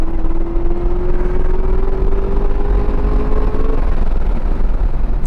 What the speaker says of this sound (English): That was the top of third gear on the rev limiter.